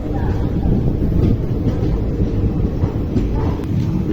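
The Mysuru–Belagavi Express, train 17301, pulls into platform 3 at an Indian railway station, a heavy low rumble rolling steadily and close throughout.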